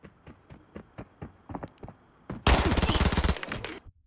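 Video game gunfire: a series of sharp, distant-sounding shots in a loose rhythm, followed by a loud, dense burst of rapid fire up close that tails off.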